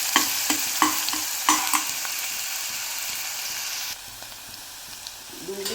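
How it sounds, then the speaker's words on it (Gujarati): Finely chopped onion hisses and crackles in a pan, with several crisp clicks of stirring and then a quieter sizzle that goes on with no talk. "ડુંગળી આપણી થોડી સતળાઈ ગઈ છે"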